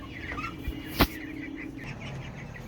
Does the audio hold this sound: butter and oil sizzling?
no